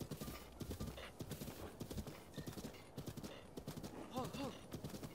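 Horse hooves gallop in Zelda: Breath of the Wild, a steady clip-clop rhythm running through the whole stretch, with a brief whinny-like call near the end and game sounds layered over it.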